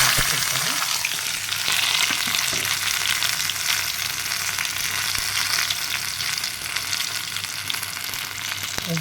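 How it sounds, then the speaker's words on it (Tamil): Taro root pieces dropped into oil with crackling curry leaves fry with a dense, even sizzle and spatter, punctuated by light stirring, no one speaking. "இப்போ இந்த கிழங்கை போட்டு நல்லா வதக்கிக்கலாம்."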